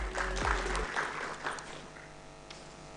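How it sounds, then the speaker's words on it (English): An audience at a live technology talent event breaks into applause to welcome a speaker. The clapping is dense at first and thins into scattered claps, with a low hum underneath. "Please join me in welcoming him with a round of applause"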